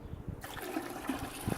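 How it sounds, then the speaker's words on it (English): Water suddenly gushes and splashes into a dangling bucket, a close, steady pouring rush that continues to the end. "now you can see there's a lot more water going to add in"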